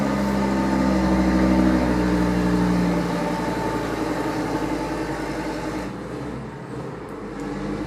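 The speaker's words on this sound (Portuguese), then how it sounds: "Mais um caminhão." A truck rumbles past on a busy street, a loud low engine drone that slowly fades as it moves away, steady traffic noise around it and no talking.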